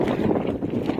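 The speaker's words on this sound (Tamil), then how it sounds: "சரியான காற்று அடிக்குது." Strong, gusting wind buffets the microphone beside a lorry being loaded with salt at Thoothukudi, a steady low roar with rough fluctuations and no talk.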